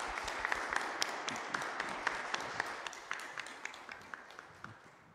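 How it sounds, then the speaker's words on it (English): Quiet applause from a congregation at a school Mass, many hands clapping softly and evenly in a reverberant space before tapering off. "Let's give her a round of applause."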